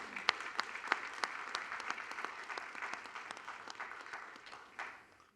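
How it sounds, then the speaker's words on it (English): Scattered applause from a small audience at the close of an evening artist talk, a few dozen separate claps that stay fairly faint and then fade out without any voices. "Just a round of applause."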